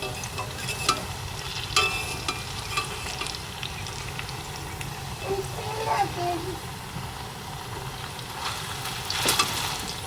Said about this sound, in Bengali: এইভাবে আমি উল্টে পাল্টে ভেজে নেব